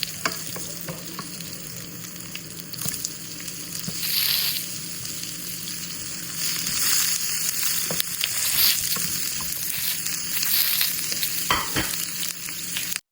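Onions and curry leaves sizzle steadily in a pan with a spoon of salt, a dense continuous fry punctuated by clinks and scrapes of stirring, close and fairly loud throughout.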